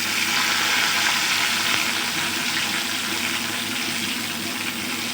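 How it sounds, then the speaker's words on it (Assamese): Chopped tomatoes dropped onto onions already frying in a pan for an okra dish cooked with mustard, giving a loud, steady, dense sizzle that fills the whole stretch with no voices. "তাৰপাছত এতিয়া বিলাহী দি দিছোঁ।"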